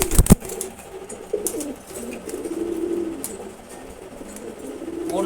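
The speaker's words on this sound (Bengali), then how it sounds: "তারপর আছে হচ্ছে রেড চেকার কবুতর।" A red checker pigeon in a loft gives soft, low coos close by, a few repeated throaty calls after a brief sharp knock at the start.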